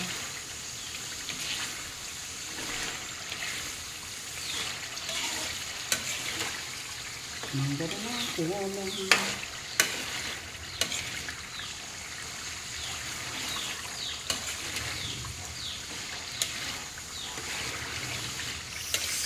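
Bananas cook with sugar in a pan, giving a soft, steady frying sizzle with intermittent stirring scrapes and a brief wavering tone partway through.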